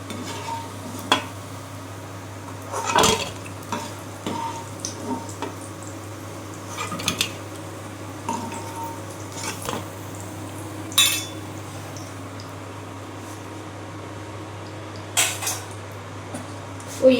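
Metal utensils clink and scrape against a pan while fried fish-roe fritters are lifted out, the sharp clatters coming irregularly over a low steady hum and faint background sizzle.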